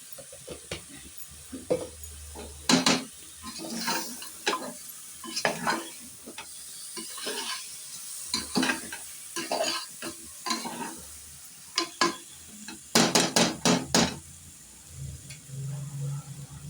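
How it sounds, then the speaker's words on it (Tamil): Goat head meat sizzles in a pressure cooker while a utensil stirs and scrapes in irregular bursts, the frying hiss rising and falling, with no talking. "அந்த தலைக்கறியை வந்து நல்லா பரட்டணும் குக்கரில் அப்படியே வச்சு பரட்டி"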